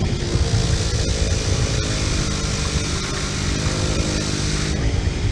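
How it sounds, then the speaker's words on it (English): A wire wheel spinning against a metal surface while preparing it, giving a steady, loud, dense grinding whir that continues without a break. "And this is just a wire wheel."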